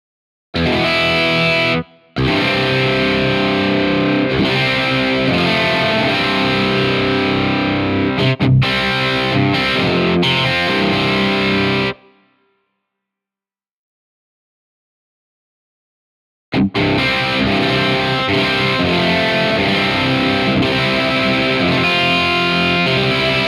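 Heavily distorted electric guitar from the AmpleMetal Eclipse VST, modeled on an ESP Eclipse I and run through Amplitube, plays dense, loud rhythm chugging that stops abruptly for several seconds of silence, then resumes at full volume.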